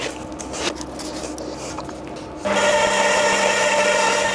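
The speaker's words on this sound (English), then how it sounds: "now I've got to gradually add this on low speed to the cream cheese" Electric hand mixer running on low speed, beating cream cheese for a New York cheesecake; a steady motor whir kicks in partway through and stays loud to the end, after quieter bowl and handling noise.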